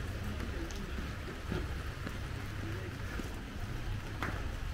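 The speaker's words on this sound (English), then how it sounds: "But I'm not scared of a little bit of rain." Heavy rain pours steadily over an outdoor street market, a dense continuous hiss of drops drumming on surfaces and awnings, with a few faint clatters and knocks from the stalls beneath the downpour.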